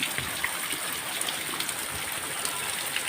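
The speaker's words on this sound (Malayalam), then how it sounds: "വെള്ളം തച്ച് കയറ്റുന്നുണ്ട്" Rainwater from a flooded yard rushes into a house, a steady close wash of flowing, splashing water with no clear voices over it.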